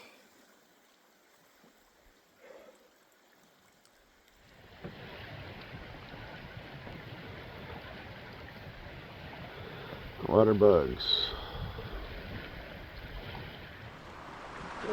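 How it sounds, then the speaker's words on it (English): Strong wind roars across a lake during a multi-day canoe trip in the Northwest, rising after a quiet start into a steady rushing gust with water lapping, while someone speaks briefly. "The wind is crazy."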